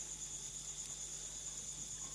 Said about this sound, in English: Frogs going crazy.